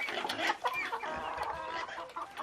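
Hens clucking busily on a sunny farm while they carry hay, with several birds overlapping in a dense, steady chatter close by.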